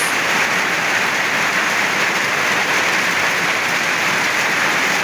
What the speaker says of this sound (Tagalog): lumakas na po yung ulan mga kapix